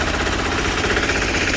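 A diesel engine on a Sears/Bolens garden tractor runs with a harsh, rapid, pulsing knock. The sound is loud and close, steady for the short moment, with no voices.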